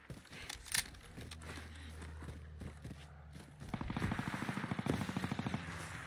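Shooter video game gunfire crackles in scattered single shots, then a rapid burst of automatic fire, fairly faint and mixed with other game sounds.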